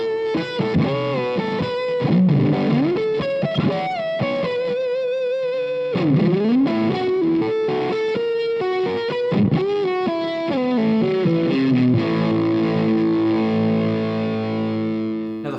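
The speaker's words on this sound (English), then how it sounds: "here's a run-of-the-mill fuzz sound" An electric guitar pushed through a fuzz pedal plays a thick, buzzing run of bends, slides and held chords, loud and saturated throughout and ending on a long sustaining strum.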